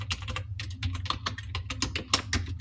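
Rapid, irregular key taps on a computer keyboard as a Hindi word is typed in the Krutidev layout, close and crisp over a steady low hum, with no voices.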